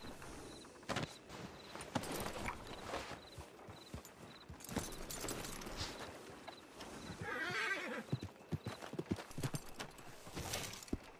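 A horse in a video game whinnies loudly and its hooves clop along, with several whinnies and a run of hoofbeats standing out over a busy game soundscape.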